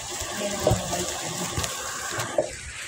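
Rain falling outdoors as a steady, diffuse hiss with a few faint drips and knocks, fairly even in loudness throughout and with no voices.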